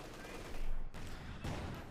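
Rapid bursts of light machine gun fire crackle from windows in a Company of Heroes 2 battle, mixed with other combat noise and a commentator's voice.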